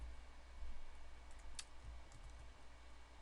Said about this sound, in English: I'm going to type out